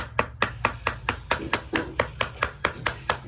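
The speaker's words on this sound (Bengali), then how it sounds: "আমি আদা রসুনটাকে ভালো করে কুচিয়ে নেব মিহি করে।" A knife finely chops ginger and garlic on a board in a quick, even rhythm of about fourteen sharp close taps over three seconds, with a faint low hum underneath.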